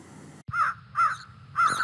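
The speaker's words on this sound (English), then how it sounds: "It's a bird and its name is a crow." A crow caws three times in a row, each call a harsh, clear squawk separated by short pauses, played from a recording with no voices over it.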